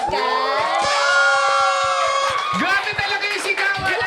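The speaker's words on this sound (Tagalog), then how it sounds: "Grabe talaga yung sigawan!" A studio crowd at a podcast taping shouts and cheers loudly, shrill whoops and yells rising and falling continuously, with voices mixed in.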